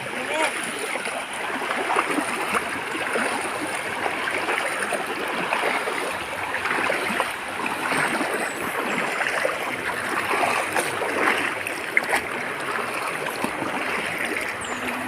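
A river flows steadily during a crossing, producing a continuous broadband rush and babble of water throughout, with faint voices talking in the background.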